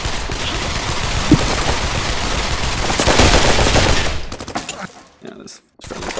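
Loud sustained automatic gunfire in Pavlov VR, friendly fire in a multiplayer match, a dense continuous fusillade that cuts off abruptly near the end, followed by scattered quieter shots and brief gaps, with voices partly mixed in.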